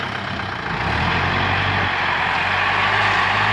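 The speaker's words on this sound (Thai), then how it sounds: "สิบล้อกำลังเทดินอยู่นะครับ" Diesel engine of a ten-wheel dump truck at a house construction site, tipping soil; a steady low rumble that swells slightly and holds, close and fairly loud, with no talking.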